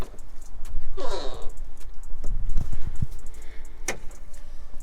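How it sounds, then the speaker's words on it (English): The hood of a New Edge Ford Mustang is popped open, making a few close mechanical clunks and rattles of the latch and panel, then a sharp click, with light handling noise around them. "I'm gonna pop the hood for you right now."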